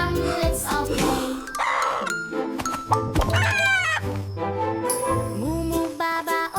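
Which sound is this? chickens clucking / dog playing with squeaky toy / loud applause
chickens clucking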